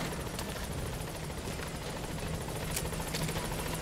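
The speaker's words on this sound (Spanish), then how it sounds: "vamos a pedir el helicóptero" Helicopter in the video game Metal Gear Solid V arriving at a landing zone, a steady loud rotor drone with a dense rhythmic chop running throughout, close and unbroken, with no talk over it.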